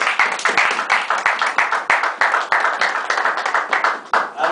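A church congregation clapping rhythmically in praise of the Lord, fast, close and steady, with voices calling out over the clapping.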